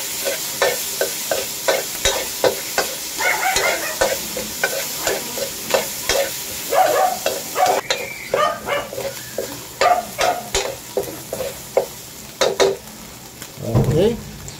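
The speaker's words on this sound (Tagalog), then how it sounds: "Pwede na po natin ilagay yung ating sisig. Haluin lang po natin" Sisig stirs and sizzles in a hot pan, a spatula scraping in quick repeated strokes over a steady frying hiss, close and fairly loud, with brief bursts of voices and a dog barking in the background.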